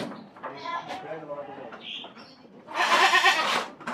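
Boer cross goat kids bleat a few times in a farm pen while someone talks over them, followed by a louder burst of rustling noise close by.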